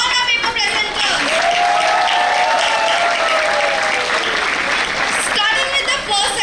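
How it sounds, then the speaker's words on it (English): Audience at a national conference for accounting students applauding paper presenters, loud sustained clapping filling the hall while a voice continues speaking over it. "give a big round of applause for all our paper presenters"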